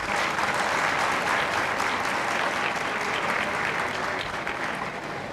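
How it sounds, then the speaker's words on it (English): Steady, full applause from a seated audience at a university symposium session in Indore, sustained evenly for several seconds with no break, close and fairly loud. "Big round of applause, everyone."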